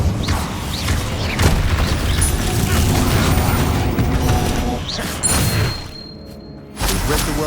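Incendio fire spells are cast repeatedly in Hogwarts Legacy during a fight with spiders, giving loud whooshing bursts and booming thuds with mechanical clatter, followed by a brief lull before another burst; a voice speaks at times.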